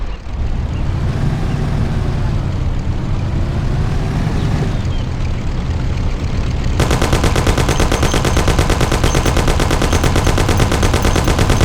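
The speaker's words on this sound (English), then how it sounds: "You and Sam shoot them." Gunfire from a Thompson submachine gun in the game Mafia: The City of Lost Heaven, preceded by a loud, steady vehicle roar, then a rapid, sustained automatic burst continuing to the end.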